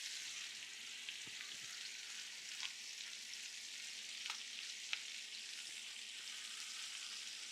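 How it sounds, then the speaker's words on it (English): Chicken sears skin-side down in butter in a hot pan, giving a steady, even sizzle throughout with a few faint pops and ticks, close and continuous with no talking. "We're gonna let this sear"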